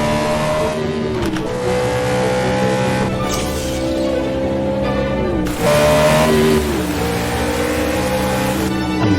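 Race car engine in a racing video game at Barcelona, pushed to its limits, screaming loud and continuous with pitch shifts through gear changes, a surge of revving near the middle and tire noise throughout.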